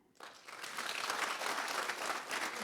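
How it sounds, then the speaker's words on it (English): An audience bursts into applause, a dense wash of clapping that swells and holds steady for a couple of seconds. "please applaud"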